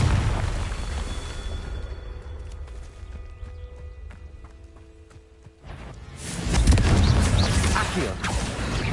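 A fire spell blast from a video game erupts as a loud rumbling boom after quieter clattering and tonal game sounds, with a voice speaking early on.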